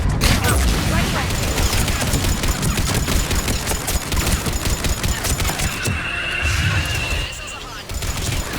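Missiles fire in the Mass Effect 3 battle on Thessia: a dense, loud barrage of rapid impacts and blasts crowds the whole stretch, with a brief lull near the end.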